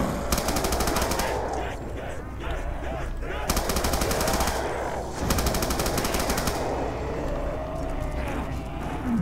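A Tommy gun fires in Call of Duty's Mob of the Dead zombies mode, with long sustained automatic bursts separated by brief pauses, loud and close over continuous game noise.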